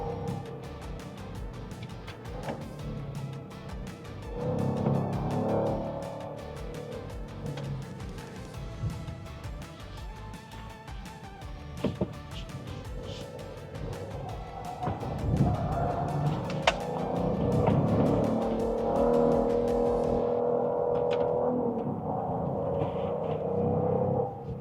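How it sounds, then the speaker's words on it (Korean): A Genesis GV70 3.5 twin-turbo sport-package SUV accelerates hard on the road, its engine drone rising and swelling with a rushing turbo intake whoosh. The sound stays loud and steady throughout, with no talking. "그리고 터보 빨려 들어오는 소리가 무지하게 나네요."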